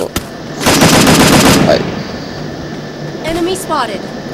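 Automatic weapon fire in the mobile battle-royale game Garena Free Fire, a loud sustained burst of rapid shots lasting about a second, followed by quieter game sounds with brief voice-like chatter.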